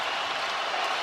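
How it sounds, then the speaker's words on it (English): Basketball arena crowd noise during a Kansas State vs Kansas game, a brief steady broadband roar of many voices and some clapping, with no clear single voice on top. "Crowd's making some noise"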